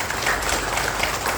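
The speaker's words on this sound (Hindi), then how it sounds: "आप बहुत समझदार है तो इसलिए जोरदार तालियां बनती है।" An audience at a health talk bursts into brief, dense clapping, fairly loud and continuous for a second and a half.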